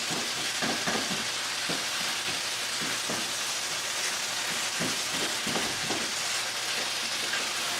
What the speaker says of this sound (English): I'm just going to continue to move it around and break it up with my spoon here.